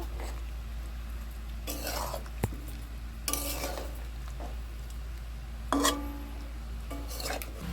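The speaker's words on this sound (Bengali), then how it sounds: "এখন একটু নেড়ে চেড়ে দেবো, একটু নাড়াচাড়া করে দিচ্ছি।" A spoon scrapes and stirs through a pan of potato, pointed gourd and paneer curry in short bursts with brief pauses, over a steady low background hum and faint sizzling, with a sharp clink of utensil on pan.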